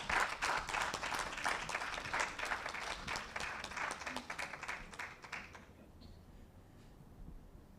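A hall audience at a senior citizens' spelling bee competition applauds steadily for about five and a half seconds, dense clapping that then thins out and stops, leaving faint room noise.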